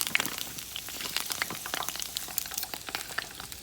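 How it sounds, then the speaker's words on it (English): Washed asparagus spears pan-searing in a hot pan, giving a steady crackling sizzle with scattered pops, moderately close and continuous, with no talking. "We're gonna add in our washed asparagus. And we're just gonna pan sear these."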